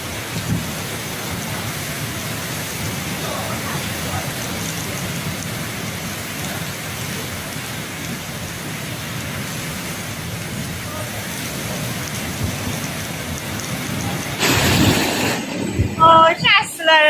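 Heavy wind-driven rain from a storm in Nanjing, a dense steady roar of downpour and gusts throughout, growing louder and rougher near the end with sharp bursts.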